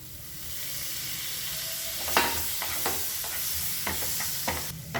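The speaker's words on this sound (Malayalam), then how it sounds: "അതുവരെ ഒന്ന് വഴറ്റി കൊടുക്കാം" Chopped tomato sautéing with spice powders in a pan for an egg dish, a constant sizzle broken by several spatula scrapes and taps, with no one talking.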